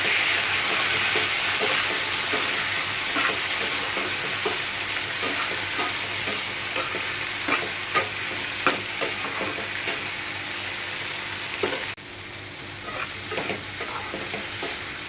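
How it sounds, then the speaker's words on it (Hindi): Soaked red chillies and tomatoes sauté in a pan for momo chutney, giving a steady close sizzle and frying hiss with regular scraping strokes of a spoon throughout. "अब हम इसमें ये वाली जो भिगो के रखा था मिर्ची लाल वाली, ये डाल देते हैं और टमाटर, इसे भी हम अच्छे से भून लेते हैं।"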